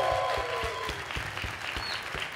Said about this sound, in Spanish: Reciban con un fuerte aplauso al señor Gon Curiel.